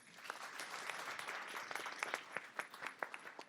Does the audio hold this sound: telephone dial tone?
no